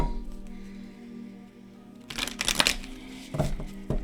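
Heart-shaped cards riffled and shuffled in brief bursts of papery crackle after a quiet stretch, close up.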